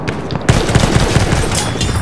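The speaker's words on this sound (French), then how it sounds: "l'arme semi-automatique, plutôt pas mal, hein" A semi-automatic rifle firing in the first-person shooter Battlefield 1, a loud rapid string of shots beginning half a second in and continuing without pause, close and dense with sharp reports.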